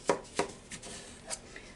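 A knife chops through peeled honeydew melon, cutting it into bite-sized pieces: a few sharp, close cuts spaced unevenly across a short stretch, with no talking.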